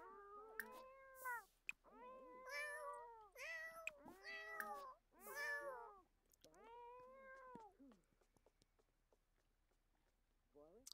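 Several cats in The Sims meow loudly in a rapid series of drawn-out, wailing cries, close up, fading to quiet at the end.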